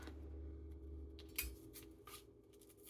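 Kitchen knife slicing an onion on a small cutting board, a few crisp close chops and taps at an irregular pace in a quiet room.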